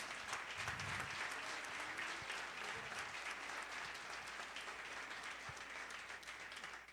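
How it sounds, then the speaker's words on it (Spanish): A church congregation applauds together in a sustained, dense wave of clapping that stays fairly even, then eases slightly toward the end. "¿Cuántos dan un fuerte aplauso al Señor por eso?"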